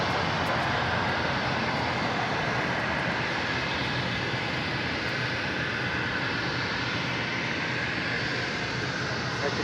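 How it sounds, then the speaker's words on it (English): An American Airlines Boeing 787-8 Dreamliner arriving at LAX from Miami gives a steady, broad engine roar that holds at an even, moderate level throughout. "This is American 2554 coming in from Miami, Florida on a 787-8 Dreamliner."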